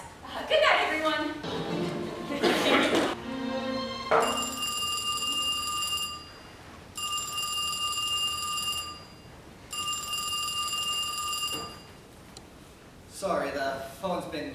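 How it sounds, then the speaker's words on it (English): A telephone bell rings in three long bursts separated by short pauses, loud and close, with people talking before and after the rings. "Sorry, the phone's been ringing me all day and it's driving me nuts."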